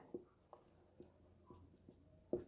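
Soft taps and short strokes of writing on a board while a geometry proof about a circle is written out, spaced about every half second, faint and close, with no voice over them.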